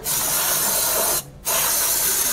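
Close, loud aerosol spray of engine flushing oil cleaner onto a car engine, two hissing bursts separated by a brief pause, with no talking.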